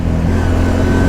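The engine of a 2021 CFMOTO ZFORCE Z 950 side-by-side hums steadily at close range, a loud, even low drone with no talk over it.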